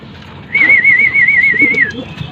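A single high warbling bird call lasting over a second, wavering rhythmically in pitch, close and clear above a low background rumble.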